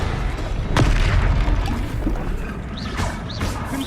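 Confringo explosive spell blasts in Hogwarts Legacy, a sharp burst near the start followed by rumbling impact noise and a couple of whooshing magical swirls later, loud and continuous over a churning game soundscape.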